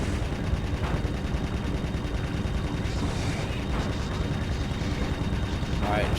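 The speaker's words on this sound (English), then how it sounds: "shooting them's not doing anything" Tank cannon and gunfire from the PS1 game Tiny Tank, a dense continuous barrage of rumbling shots and bursts throughout, with game effects layered over it and no clear pauses.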